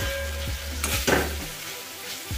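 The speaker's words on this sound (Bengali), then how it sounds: "ভালো করে নাড়াচাড়া করে কষিয়ে নেব" Spices, half a teaspoon of sugar and two slit green chillies are stirred and sautéed in a hot pan, making a close sizzle broken by a few spoon scrapes and clinks.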